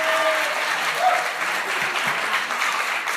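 A studio audience at a comedy hot pepper challenge bursts into applause, dense steady clapping from a sizable crowd that fills the whole stretch at a strong, even level.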